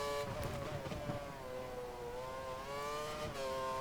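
Race car engine in F1 2013 held at full throttle, a loud steady high-pitched whine rising slightly in pitch through the gears, close and continuous with no talk over it.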